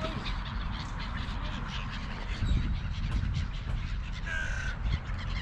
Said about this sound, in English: and our little crows and a few pigeons.